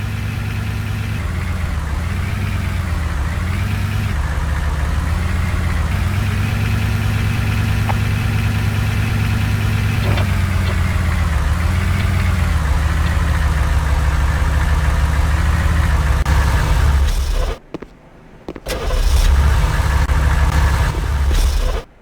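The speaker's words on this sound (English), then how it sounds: "Take the Humvee around the entire track to complete the next objective." A Humvee engine drones steadily in Command & Conquer: Renegade, a continuous loud mid-low rumble that cuts out briefly near the end before resuming.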